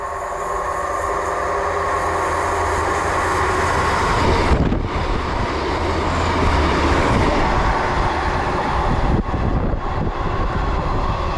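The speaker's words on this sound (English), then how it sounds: "passing through now is a service from Exeter St David's to Penzance" Class 150 diesel train on an Exeter St David's to Penzance service passes through a Cornwall station, a loud, continuous rumble of wheels and carriages with wind buffeting the microphone throughout and no talk.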